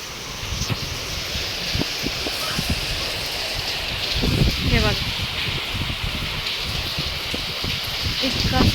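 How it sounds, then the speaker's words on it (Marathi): Steady heavy rain pours with a dense hiss, heard from indoors at a window, with strong gusts of wind, scattered drips, and faint voices murmuring underneath. "खिडकीतनं बघूया आपण जोरदार पाऊस चाललाय"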